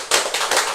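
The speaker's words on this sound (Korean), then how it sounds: "기대하면서 먼저 박수로 영광." A church congregation at a Korean retreat bursts into applause, dense close clapping from many hands that holds steady through the short moment.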